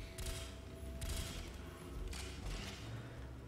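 Bursts of automatic gunfire from a vehicle in Call of Duty Black Ops Cold War zombies mode, three rapid volleys at moderate distance over a low rumbling engine-like bed.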